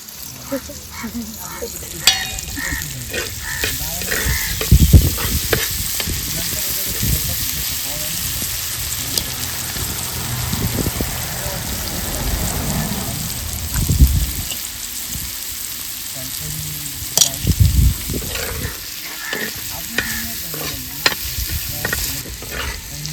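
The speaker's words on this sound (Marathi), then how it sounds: "चला आता शिपल्या मस्त फ्राय करायला घेतल्या." Freshwater clams frying on a tava outdoors, giving a continuous crackling sizzle with repeated scraping and clatter of stirring, loud and close, with muffled voices faintly underneath at times.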